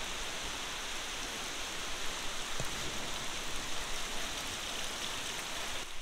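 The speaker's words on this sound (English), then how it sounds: "Man, we are getting some rain. It is flat coming down." Heavy rain pours steadily outside a fabrication shop, a dense, constant hiss with no pauses, close and fairly loud, with no voices.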